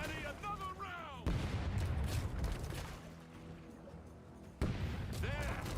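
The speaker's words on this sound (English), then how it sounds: "Cannon crew, give them a round. Make it hurt. Cannons, rain fire." Cannon fire in the pirate naval video game Rogue Waters: heavy booming blasts break out loudly around one and a half seconds and again near four and a half seconds, amid continuous battle noise and a voice giving orders.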